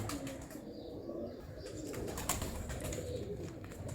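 Champion fancy pigeons coo softly amid a steady, busy outdoor wash of bird noise, with faint chirps and rustling throughout and nobody speaking.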